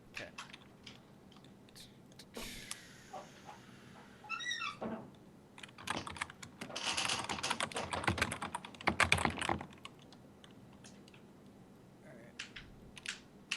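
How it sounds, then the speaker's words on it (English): Keys clatter on a computer keyboard in bursts of typing, with dense fast runs in the middle and sparser clicks at the start and end, close and moderately loud with no talk. "You typing them in Skype?"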